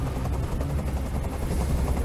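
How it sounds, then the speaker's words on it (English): A loud, continuous helicopter rotor drone with rhythmic thumping in the video game Detroit: Become Human, mixed with bursts that suggest distant gunfire. "I can't stand that noise anymore. Tell that helicopter to get out of here."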